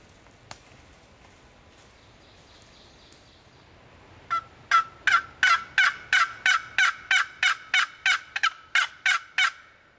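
A wild turkey gobbles in a long rapid string of loud, evenly spaced notes after a quiet stretch, heard outdoors during a turkey hunt.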